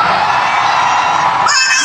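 A large crowd at a youth protest rally shouts loudly and continuously, a dense roar of yelling that barely changes over the whole stretch.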